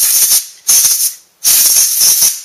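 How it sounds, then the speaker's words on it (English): Short bursts of compressed air from a can blow out a small electric motor's bearing housing: three loud, close hissing blasts separated by brief pauses, with no talking. "take a little can of compressed air"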